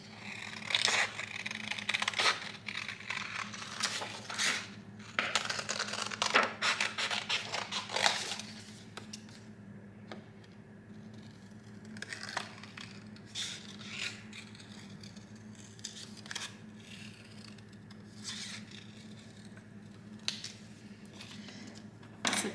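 Metal snips cut shapes from a tin can for a bunny planter, giving repeated crunching snips and scraping clicks close by, busy at first and then sparser and quieter.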